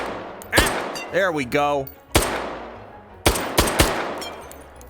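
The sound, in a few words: AMAG 2 rifle in .22 WMR firing shots, video game H3VR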